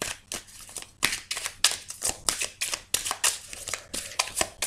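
Lotus oracle cards shuffled by hand before a reading give repeated close, crisp riffling and slapping bursts in a quick uneven rhythm, fairly soft, with no talking.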